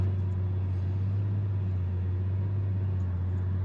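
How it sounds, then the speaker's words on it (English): A stock BMW N54-engined car with misfires cruises in top gear through a 60 zone, giving a steady, close, low droning hum with a constant rumble and no talk. "we're just cruising through a 60 zone, and the car's in top gear and it's just driving really nicely"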